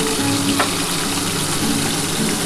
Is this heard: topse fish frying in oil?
yes